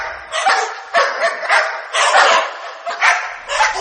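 Two dogs bark and yip rapidly in close, repeated bursts, chasing people in a horror story set at a haunted house.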